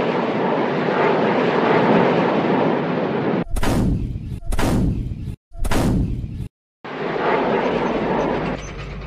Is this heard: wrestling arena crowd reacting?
no